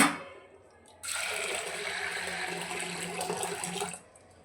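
A jug of water poured into a pressure cooker holding washed dal, a steady close rushing pour lasting about three seconds before it cuts off, preceded by a faint metallic clink.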